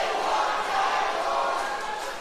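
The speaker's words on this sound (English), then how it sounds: "The crowd chanting they want tables in a cage match." A crowd at a Newcastle Pro Wrestling cage match, chanting for tables: a loud, dense, continuous roar of many voices filling the venue without a break.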